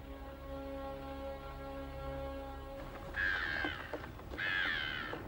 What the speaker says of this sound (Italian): Uccelli, uccelli! Guardate! Dovremmo essere vicini alla terraferma. Forse sono uccelli che vivono sul mare.